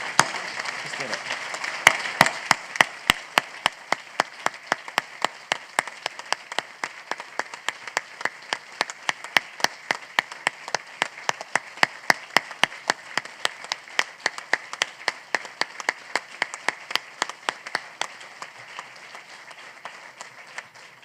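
A crowd at a children's hospital groundbreaking celebration applauds, settling into a loud, rhythmic unison clap with sharp regular beats that continues for about twenty seconds and gradually softens, with a brief voice at the start.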